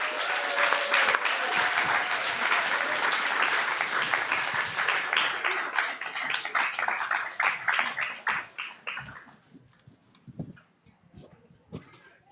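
An audience applauding at a yacht club press conference, dense sustained clapping that gradually breaks up into scattered claps and fades to quiet.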